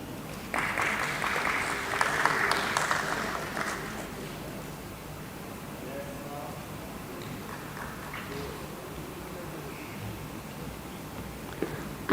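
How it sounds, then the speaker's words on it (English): At a company stock listing ceremony, guests applaud after the team is introduced. A burst of clapping in the first few seconds fades to scattered claps and quiet room noise with faint murmuring. "Big round of applause, please."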